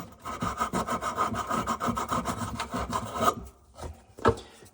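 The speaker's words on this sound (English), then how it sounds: "we're going to grab a little bit of emery cloth or sandpaper, smooth out our fitting here" Emery cloth or sandpaper rubbed over a copper pipe fitting under a sink: a steady run of quick, rasping back-and-forth strokes, close and fairly soft, ending in a few slower scrapes.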